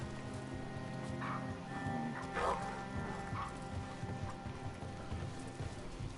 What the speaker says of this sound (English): There's a lot of dogs.